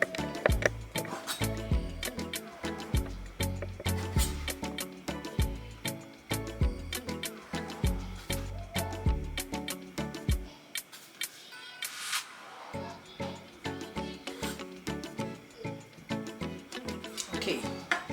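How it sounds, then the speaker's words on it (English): A knife cuts a tortilla shell into chips on a board, giving a long run of rapid, crisp tapping chops with a brief pause partway through, steady and close throughout. "I will be cutting the same tortilla shell to make some chips to serve with the meal"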